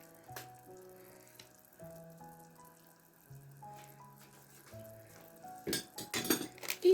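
A utensil stirs a marinade with salt and black pepper in a bowl, making a short cluster of light clinks and scrapes near the end, heard over soft melodic background music.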